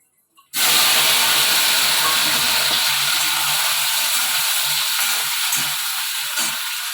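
Steam hisses loudly and steadily from a pot of rice cooking on a kitchen stove, starting abruptly and holding close and unbroken, with faint rattling underneath.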